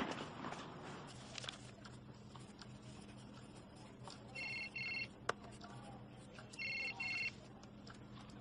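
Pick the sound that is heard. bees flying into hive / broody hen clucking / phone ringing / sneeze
phone ringing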